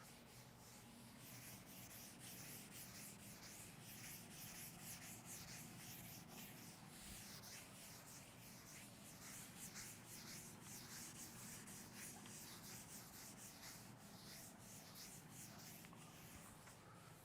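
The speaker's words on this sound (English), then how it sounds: "Now I'm going to rub this part." A duster rubs out part of the writing on a chemistry lesson board in continuous, rapid back-and-forth strokes, a soft, steady scrubbing held at an even, faint level throughout.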